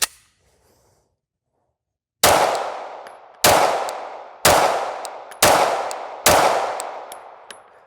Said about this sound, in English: It's firing a round that has more recoil, more power generated from it, but it's in a locked breech semi-automatic design.